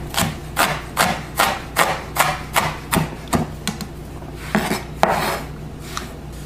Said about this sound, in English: Flatten the onion and then begin by cutting.